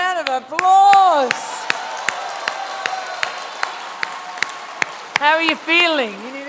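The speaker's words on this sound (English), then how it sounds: "A big round of applause." Graduation audience clapping in a hall, heard as a string of sharp, evenly spaced claps running under a voice talking loudly over them.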